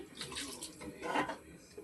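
Water poured into a cooking pan with oil for a Marmara Bajji curry, a quiet splashing and sizzling pour that swells briefly and fades, with no talk.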